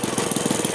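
A SAITO 125A four-stroke model airplane engine runs at a fast, even pulse, each firing stroke distinct in a rapid, close, buzzing rhythm with no voices over it.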